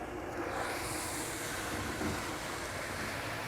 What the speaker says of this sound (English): you'll turn your pump back on